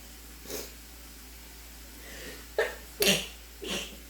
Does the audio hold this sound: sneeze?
yes